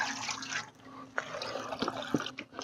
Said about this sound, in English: Just take a little bit of water and we'll wash down our sluice here.